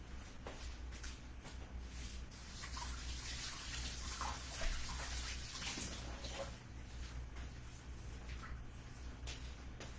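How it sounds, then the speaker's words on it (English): Running tap water splashes steadily into a sink as hands are washed in a home kitchen while making pepperoni rolls, a continuous moderate rush with small shifts in the flow. "Let me wash my hands."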